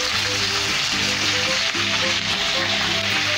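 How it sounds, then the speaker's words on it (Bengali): Spices sizzle in hot oil in a pan with a bay leaf, salt and tomato for a Bengali labra. The close, steady frying hiss runs without pause and no one speaks. "এগুলো একটু ভাজা ভাজা করে নেব"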